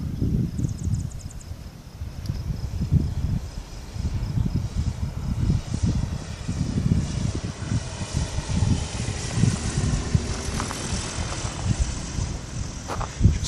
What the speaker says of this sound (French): le petit ULM qui va entamer sa descente pour aller, voilà, ici, derrière, c'est la piste